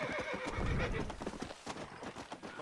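A horse in Red Dead Redemption whinnies loudly, then its hooves clip-clop and thud in a fast gallop, close and clear with in-game ambience underneath.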